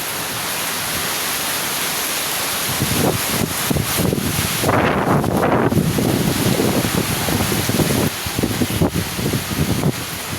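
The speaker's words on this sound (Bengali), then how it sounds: "কিছুক্ষণ পর পরই প্রচুর বাতাসের সাথে বৃষ্টি হচ্ছে।" Strong gusting wind with rain batters the microphone at the seaside around Kuakata, a loud roaring wash that swells and surges in the middle, with no voices.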